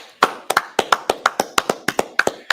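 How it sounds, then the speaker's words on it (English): About a dozen sharp, evenly spaced hand claps ring out close and loud as a scripture class claps for the Lord, steady and alone with no talking. "let's clap it up for the Lord."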